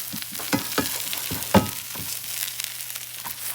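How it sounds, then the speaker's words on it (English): A grilled cheese sandwich sizzles in a pan taken off the heat, with a steady close frying hiss and a few soft scraping clicks, with no talking. "Still sizzling, see what I'm saying?"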